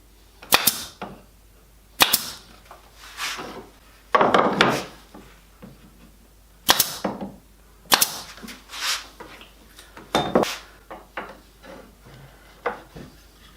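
Staple or nail gun driving fasteners into a wooden box built from Australian timbers, sharp loud snapping shots fired singly at irregular intervals, some followed by faint rubbing and handling noises.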